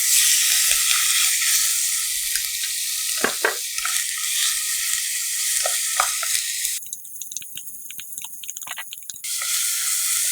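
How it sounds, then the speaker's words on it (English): Seasoned pork sizzles and crackles steadily in hot cooking oil for Korean gochujang jjigae, a loud continuous frying hiss with occasional stirring clicks and a brief quieter stretch near the end. "Some cooking oil. And we put this seasoned pork."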